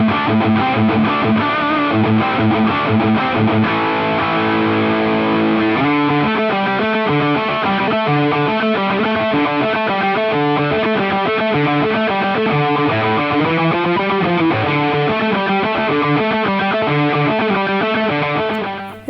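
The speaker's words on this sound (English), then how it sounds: "a fairly mid-forward sounding distortion" Heavily distorted electric guitar through a Harley Benton RockPlug Classic Rock headphone amp plays a continuous riff with sustained chords and chugging notes, mid-forward tone, loud and up front throughout, no voices.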